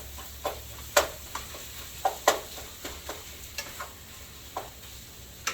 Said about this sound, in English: I'm going to crumble that up to save time. Let it start cooking.